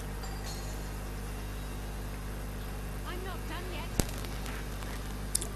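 A sniper rifle shot in the video game Valkyria Chronicles: one sharp, loud crack with a short tail, followed later by a fainter click, over a constant low engine-like hum and murmuring voices.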